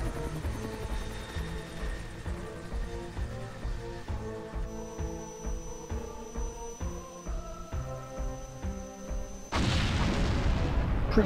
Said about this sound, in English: Pre-rendered explosion.